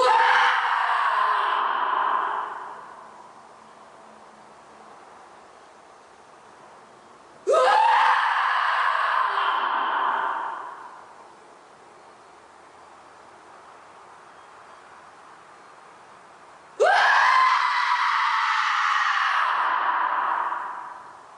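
A person lets out three long, loud screams as a cathartic release exercise, each one roughly evenly spaced, sustained for a couple of seconds and trailing off into a reverberant echo before quiet gaps.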